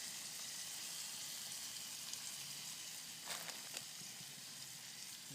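Squirrel meat fries in oil on a small camp stove in the woods, a faint, even sizzle and hiss with a brief burst of crackling near the middle and no voices.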